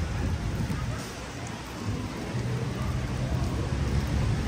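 Steady rain falls outdoors on a Paris street, a dense continuous hiss with a low rumble underneath, close and constant throughout.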